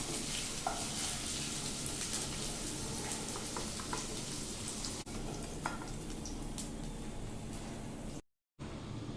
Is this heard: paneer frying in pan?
yes